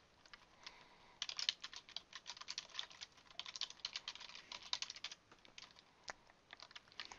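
Steady, uneven clatter of keys on a computer keyboard while login details are entered during a Dropbox installation, close and fairly quiet, with bursts of rapid keystrokes and short pauses, no voices.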